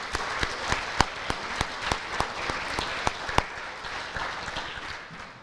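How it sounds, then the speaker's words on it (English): An audience at an FFA banquet applauds steadily, many hands clapping in a dense, even wash with a few sharper claps standing out, fading slightly toward the end. "Let's give them all a round of applause for their funding efforts."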